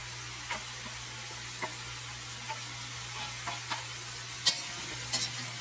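Chicken adobo with turmeric and coconut milk sizzles steadily in a pan while it is flipped, with a constant low hum and scattered scraping clicks of the utensil.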